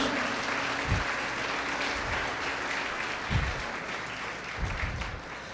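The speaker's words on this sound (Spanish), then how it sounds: "Dele un aplauso, dele fuerte, es para Jesús." Church congregation applauding during an energetic sermon, steady clapping filling the room with a few sharper bursts of louder claps, no talking over it.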